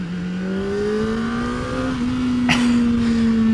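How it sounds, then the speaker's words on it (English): A 2023 Kawasaki ZX-4RR sport bike's inline-four engine revving hard under riding, a loud, steady high-pitched wail that climbs steadily in pitch, with a brief burst of wind or road noise near the end. "What a little sweetheart of an engine, man."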